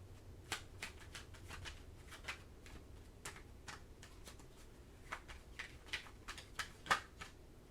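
Tarot cards are shuffled close by in a quiet room, with soft riffling, sliding and tapping in an irregular rhythm and a few sharper snaps.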